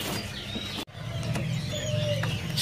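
A caged blue anis bird (anis biru) at a bird market gives thin whistled calls, a few clear rising and falling notes over busy background chatter and bird noise.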